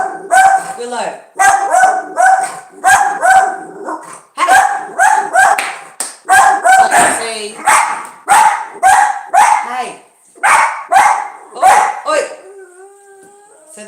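Two dogs bark loudly and repeatedly at the neighbours' dog next door, with rapid, excited volleys and short pauses. A person shouts at them now and then over the barking.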